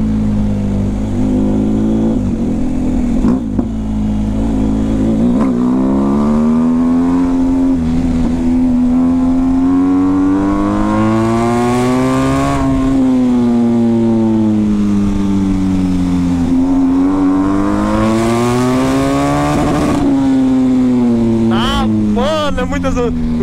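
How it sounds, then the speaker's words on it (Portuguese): A car with a straight-pipe exhaust revs hard through first, second and third gears, a loud, raw engine note that climbs and drops with each shift, close and continuous, with voices faintly underneath. "Deixa eu dar uma puxada de primeira pra segunda e terceira, você ver."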